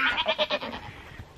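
A Nigerian Dwarf goat on a homestead gives a quick run of wavering, pulsing bleats, fairly close and moderately loud, fading out toward the end with no voices over it.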